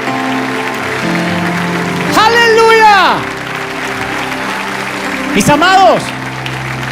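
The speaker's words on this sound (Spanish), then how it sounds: "Si crees que Dios te habló, dale un aplauso que lo escuche el mundo entero" A church congregation applauds in a steady wash of clapping beneath a preacher's loud, impassioned voice speaking over it.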